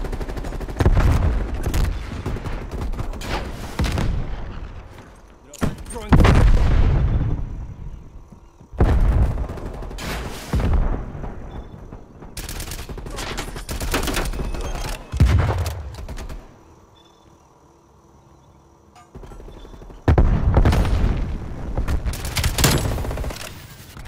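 Heavy gunfire and blasts from Call of Duty: Black Ops Cold War fill the scene in loud, dense bursts, rattling volleys broken by short quieter gaps before the shooting resumes.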